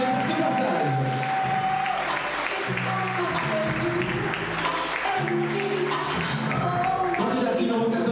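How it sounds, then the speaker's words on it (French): Audience applauding a candidate at the Miss Saône-et-Loire 2014 beauty pageant: steady, dense clapping from a crowd fills the whole stretch, with tonal music sounding underneath. "On va vous applaudir bien fort."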